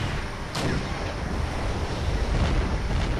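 Tank and artillery fire in the Wargame: European Escalation strategy game gives a broad, rumbling roar with a sharp distant-sounding crack early on, then a steady heavy wash of battle noise.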